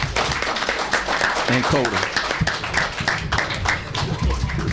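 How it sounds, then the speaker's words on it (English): Applause at a regular board meeting, a room of hands clapping steadily and fairly close for several seconds while a voice speaks over it. "a round of applause for their courageous efforts"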